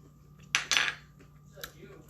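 A spoon clinks against a bowl of Mexican street corn salad in two quick metallic taps close by, with a faint tap after them in an otherwise quiet kitchen.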